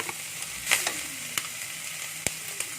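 Jamur joko (shiitake-type) mushrooms are added to a hot pan for Taiwanese lu rou fan, giving a soft continuous sizzle with a few sharp clicks and taps of a utensil, no talking.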